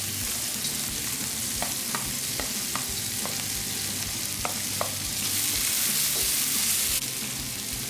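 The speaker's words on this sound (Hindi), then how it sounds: "2 मिनट आपने इसको सौते करना है।" Carrots and cabbage for egg fried rice sizzle steadily in a hot pan over high heat, with light scraping and tapping of stirring over a constant frying hiss throughout.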